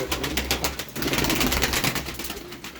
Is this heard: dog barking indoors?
no